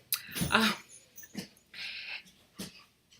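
Dogs moving about indoors, with short bursts of snuffling, panting and faint whimpers spaced irregularly, quiet and close, with a few soft rustles between them.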